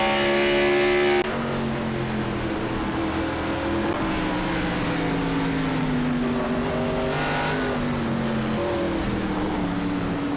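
Simulated NASCAR race car engine at the Charlotte Roval road course, loud and close, revving and shifting with rising and falling harmonic whine through gear changes, a brief pause near the start, no talk.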